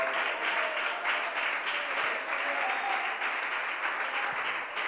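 A church congregation claps in a steady, moderately quiet round, an even crackle of many hands, with a few faint voices beneath.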